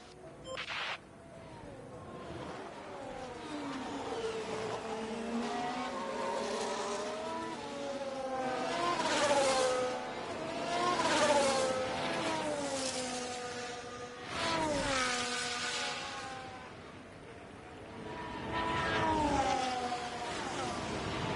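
Formula 1 race car engines scream through a flying lap in the F1 Manager 24 game on a drying track, with high revving pitch sweeping up and down through gear changes and several cars passing loudly across the scene.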